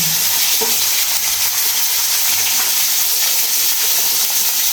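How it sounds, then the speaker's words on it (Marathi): Mustard seeds, cumin, curry leaves and crushed garlic sizzle in hot oil for a tempering, a steady loud frying hiss with scattered small pops and crackles, close up. "त्याच्यामध्ये मोहरी आणि जिरे आणि सर्वची फोडणी देऊया."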